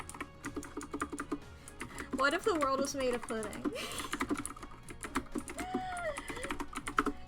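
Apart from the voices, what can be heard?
loud computer keyboard typing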